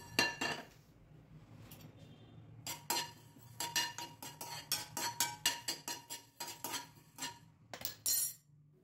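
Coriander and cumin pounded by hand for rasam powder: a run of sharp, ringing metallic strikes, sparse at first and then a steady, fairly quick rhythm of close knocks and clinks with no talking.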